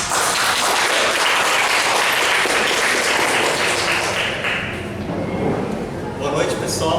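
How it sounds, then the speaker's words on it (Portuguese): An audience at an evening talk event applauds a speaker named Márcio with dense, loud, sustained clapping that fades slightly toward the end. "Um aplauso, Márcio."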